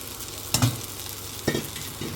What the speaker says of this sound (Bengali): এবারে এর মধ্যে আমি সাবুখানা দিয়ে দেব